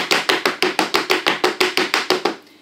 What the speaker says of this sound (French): On tapote un petit peu.